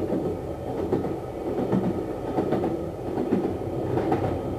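A train rolls steadily along rails with a continuous low rumble and rhythmic clickety-clack of wheels, loud and close, with no voices.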